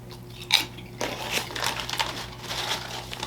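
Crunching bites of a Lay's mashup chip combining Dorito, Cheeto and Funyun flavours, eaten alongside chicken fried rice: close, loud crisp crackles in quick bursts, one sharp bite followed by steady chewing crunches, with no talking.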